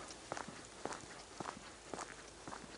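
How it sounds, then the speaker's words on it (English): Footsteps on a road at night during a Warrensburg Christmas lights walk, steady and evenly paced, faint and close with quiet background hiss. "me and my footsteps."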